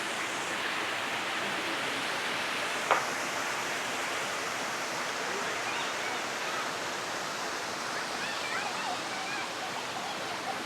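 Water pouring steadily over Cholamala waterfall in Wayanad, Kerala, a dense, constant rushing roar heard close by, with a single brief knock partway through.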